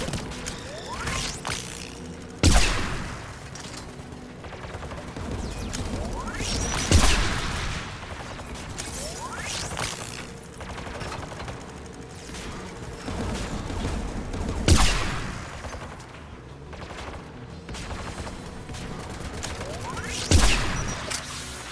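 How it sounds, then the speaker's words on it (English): Anti-aircraft guns firing in Mass Effect 3, heavy booming shots landing every few seconds over a constant loud background of battle rumble and crackling fire. "There! Anti-aircraft guns!"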